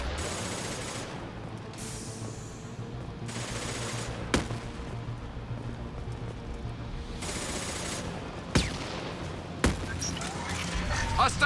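Gunfire in the video game Mass Effect 2: scattered sharp shots and short bursts crack over a busy, steady battle din, with a few louder impacts toward the end.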